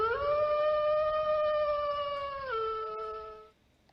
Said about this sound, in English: a howl came from among the pack